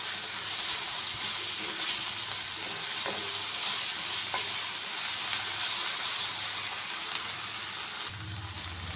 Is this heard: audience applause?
no